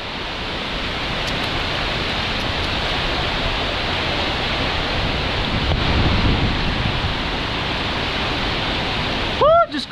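Typhoon Kristine's heavy rain roars steadily as a broad, loud wash with deep rumbling thunder underneath, building slightly midway before a short voice sound at the very end.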